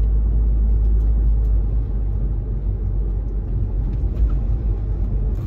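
An Audi S5 launching hard down a drag strip, a loud, steady, close engine roar with heavy low rumble that holds throughout without a break.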